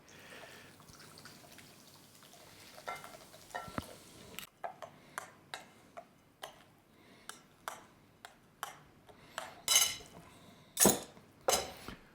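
Light clinks and taps of a utensil against a container repeat in an uneven rhythm, growing louder toward the end, with faint liquid sounds underneath, as a pork shashlik marinade is stirred and thinned with sparkling mineral water.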